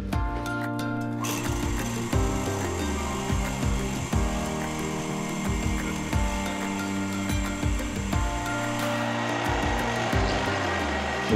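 A pantograph milling machine engraves letters into a knife blade, giving a steady motor whine with an irregular grinding cut that rises and falls as the letter shapes are traced.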